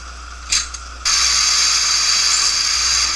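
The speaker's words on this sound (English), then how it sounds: "I am rather glad I brought my shotgun." Shotgun handled in a video game, heard as a quick pair of mechanical clicks followed by a sustained bright metallic whirring rattle, close and fairly loud, with no talking.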